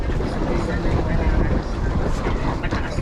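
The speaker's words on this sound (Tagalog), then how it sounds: "Pinaandar na yan yung makina." A boat engine runs with a loud, steady drone just after starting, mixed with heavy wind buffeting the microphone on open water.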